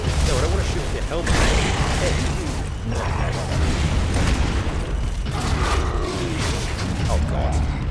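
A grenade blast from the video game Gears of War Judgment, sounding as loud, dense, sustained rumbling combat noise with bursts and mechanical clatter throughout.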